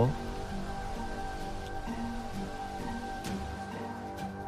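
Steady rain falls, pattering on a surface with occasional louder drops, over a faint constant hum.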